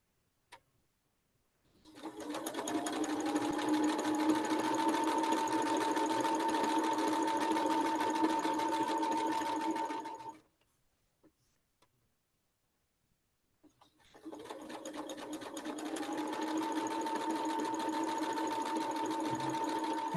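A sewing machine chain piecing quilt fabric, running in two long, steady humming bursts separated by a brief pause, close and even, with no talk.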